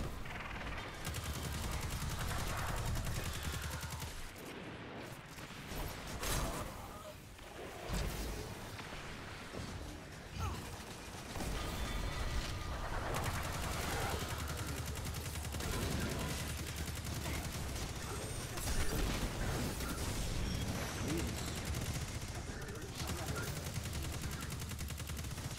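Dense, sustained gunfire in the Destiny 2 PC shooter, with rapid machine gun bursts and heavy bangs running continuously and loudly throughout, mixed with game effects and occasional voices underneath.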